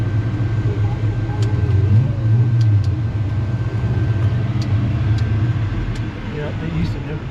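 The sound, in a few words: town street traffic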